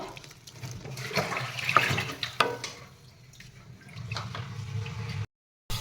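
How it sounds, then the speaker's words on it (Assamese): Water pours into a hot pan of softened tomatoes and green peas, a close gushing splash and bubbling hiss that fades to a low simmer before a brief silence at the end. "ইয়াতে এতিয়া পানী দিম মই, পানী ঢালি দিছোঁ সিজিবলৈ"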